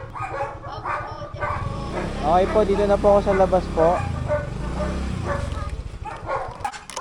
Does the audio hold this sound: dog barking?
yes